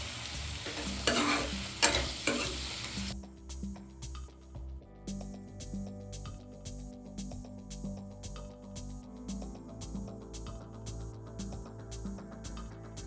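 Spinach and prawns frying and being stirred in a pan: close sizzling with a scraping burst early on, then steady crackling with rhythmic stirring scrapes, no talk.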